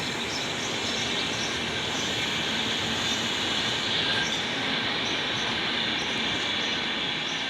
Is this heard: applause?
no